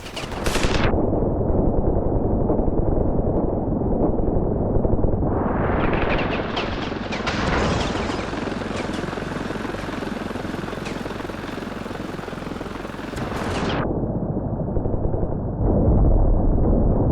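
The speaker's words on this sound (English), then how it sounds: "we can shoot the AK while our pilot is trying to shoot the enemies with rockets" Automatic AK rifle fire and helicopter rocket launches in the video game Ravenfield, with a dense, loud barrage of rapid shots and a rising rotor-like roar swelling in the middle before cutting back to gunfire.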